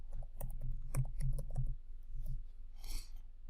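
Keyboard typing of a new folder name in a disaster recovery cloud console, a quick run of light, irregular key clicks up close, then a brief softer rustle near the end.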